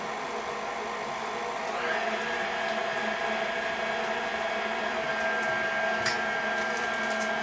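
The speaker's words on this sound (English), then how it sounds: "go ahead and blend these 3 ingredients until they're well blended and in a softened state" An electric mixer blending cream cheese with two other ingredients gives a steady, loud motor whir that holds constant throughout and shifts to a slightly higher pitch partway in, with no talking.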